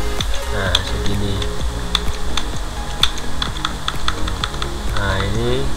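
Computer keyboard typing: a steady run of crisp, close key clicks, including a Ctrl+C copy shortcut, with a faint voice now and then in the background.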